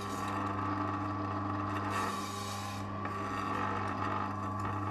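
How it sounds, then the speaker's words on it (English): Bacon slab pushed against the blade of a manual meat slicer, giving a continuous close rasping, rubbing scrape with a steady motor-like hum beneath, rising and easing with each slice. "as I'm taking slices, I'm adjusting the handle so that it helps press the meat against the slicing plate"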